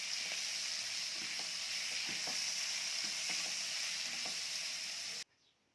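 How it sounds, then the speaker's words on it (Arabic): Meat for pot kebab sizzles loudly in a pot with spices such as cardamom and bay leaf, a steady frying hiss with a few soft stirring clicks, cutting off abruptly near the end. "هننزل على اللحمة بتاعتنا بالبهارات كده ونديها تشويحة"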